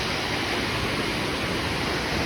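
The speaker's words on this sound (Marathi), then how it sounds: "या गावाच्या मध्ये हा धबधबा आहे" A steady, full roar of falling water from a village waterfall at Kohane, Akole, India, broadband and unbroken, heard close up with no other sounds.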